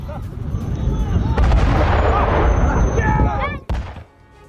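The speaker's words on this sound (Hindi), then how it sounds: "मिसाइलों के गिरने के बाद ही इस पूरे इलाके में धमाका होता है" Iranian missiles striking Israel set off heavy explosions, a dense, loud rumble of blasts and booms with a sharp crack near the end before the noise drops away.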